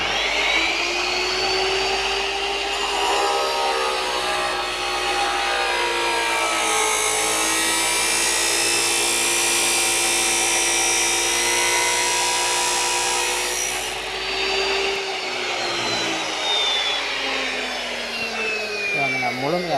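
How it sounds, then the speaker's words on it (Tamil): An abrasive cutting machine, an aluminium cutter used here on metal, cuts through an iron bar with a loud, sustained high grinding whine that holds steady for nearly twenty seconds before the pitch shifts as the cut ends. "முதல்ல வந்து இரும்பு வெட்டுற கட்டரில் நான் வந்து இரும்பு வாரண்டை கட் பண்ணுறேன்"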